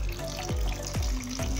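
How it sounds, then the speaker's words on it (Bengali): Water pours into a pot of spicy crab curry, a close, continuous splashing stream with a few bubbly gulps throughout. "তো জলটা দিয়ে দিচ্ছি"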